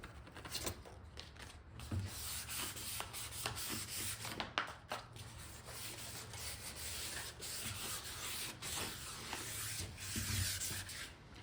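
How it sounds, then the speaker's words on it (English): Light hand-sanding of an axe with 400-grit sandpaper, a steady continuous scratchy rubbing that runs close and fairly even with slight pulses of strokes, with no voices. "Now I might just scuff it a little bit with some 400, just lightly."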